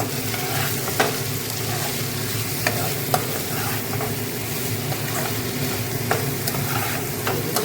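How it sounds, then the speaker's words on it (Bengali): Cauliflower and vegetables coated with turmeric sizzle in a frying pan while a spatula stirs them, a continuous close crackle punctuated by frequent light scraping clicks against the pan. "ভালো করে নেড়ে দিলাম"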